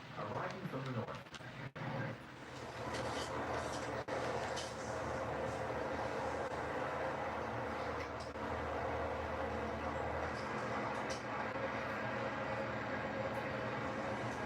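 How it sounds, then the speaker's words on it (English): GT freight train number 476 approaching from the north, a steady loud low rumble and rolling roar that holds throughout with a few sharp knocks early on. "chassis precedes the approach of GT train number 476, arriving from the north"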